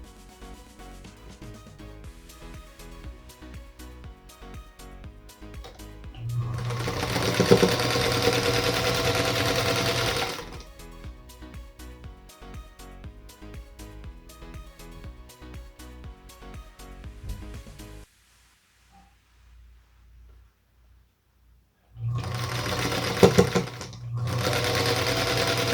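A sewing machine stitches two quilt units for a Union Star quilt block in a steady, fairly loud run lasting several seconds, then stops briefly and starts again for a second burst.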